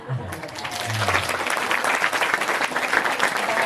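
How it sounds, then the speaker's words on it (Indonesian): An audience at a school religious commemoration applauds, dense clapping starting after a brief low voice and continuing loudly and steadily to the end. "Tepuk tangan dulu ya."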